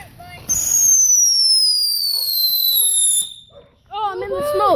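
Fireworks set off to make noise: a rising whistling shriek trails off over about three seconds, then after a short pause a crackling burst follows, close and loud.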